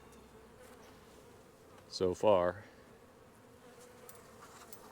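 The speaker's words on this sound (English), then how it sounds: "Bees all over the honey" Honey bees buzz steadily at low level over a hive frame, with someone briefly speaking midway over the constant insect drone.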